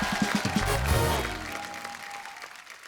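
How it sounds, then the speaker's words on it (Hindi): Studio audience applause on a comedy talk show for a film team, with a brief burst of clapping and a low musical sting underneath that fades within a few seconds. "शुभमंगल ज़्यादा सावधान की पूरी टीम के लिए जोरदार तालियां"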